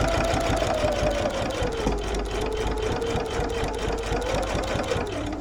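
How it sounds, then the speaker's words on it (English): A sewing machine stitches the side seam of a fabric bag in a steady, rapid whirring run with a continuous mechanical hum, close and unbroken for about five seconds. "Let's just sew up the right side."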